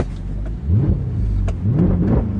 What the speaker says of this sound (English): These are for the off-throttle sounds.